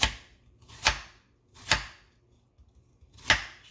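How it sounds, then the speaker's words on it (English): Four sharp knife chops of onions on a cutting board, spaced irregularly about a second apart, close and crisp with quiet pauses between, no voices. "the first thing I want to do is just start slicing up my onions"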